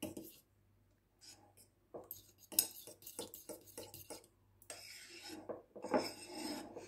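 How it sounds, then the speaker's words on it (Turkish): A spoon scrapes and clinks against a bowl while cacık yogurt with dried mint is stirred, giving irregular close rasping strokes and small taps, fairly quiet, with a faint low hum beneath. "Kuru nane biraz geç karışıyor, o yüzden güzelce bir karıştırmam lazım."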